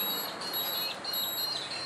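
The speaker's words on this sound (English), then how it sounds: "that's the Brewmeister telling me it's at mash-in temperature" A Brewmeister home brewing machine beeps to signal it has reached mash-in temperature, a thin high electronic tone sitting faintly in the background behind steady room noise.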